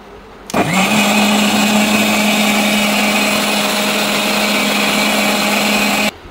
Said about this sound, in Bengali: এখন বাকি রয়েছে রসুন ব্লেন্ডার করা